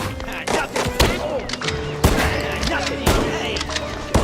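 Gunshots in the video game Mouse: P.I. For Hire, several punchy shots spaced roughly a second apart, loud and close, with a voice talking between them.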